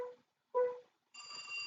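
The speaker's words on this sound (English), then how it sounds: "Should have unplugged the phone." A telephone rings in the Trauma Center: New Blood video game, with two short trills followed by a longer bright ring, close and clear in a quiet room.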